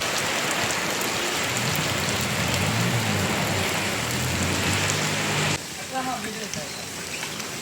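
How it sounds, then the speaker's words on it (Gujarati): Heavy rain pours down in Bhavnagar, a dense, steady roar of drops hitting surfaces close by; a voice talks under the downpour, and the rush drops away abruptly near the end. "જોરદાર વરસાદ આવી ગયો છે."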